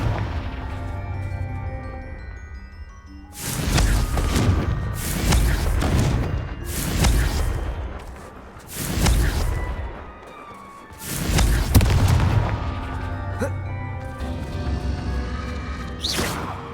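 Repeated Confringo blasting spell explosions in Hogwarts Legacy, several loud booming bursts in a row with short gaps between them, over a background of game music.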